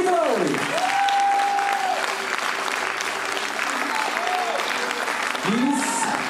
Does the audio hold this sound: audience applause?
yes